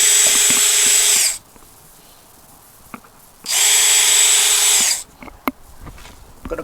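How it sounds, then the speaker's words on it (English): A power drill whines loudly in two sustained bursts, each about a second and a half long, as it bores holes through an engine splash guard on a Lexus GX460, with quiet clicks and handling noises in the gaps. "grab my drill here and start poking holes in here"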